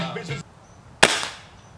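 A single sharp air gun shot cracks out close by after a brief stretch of faint voices, leaving a short fading tail.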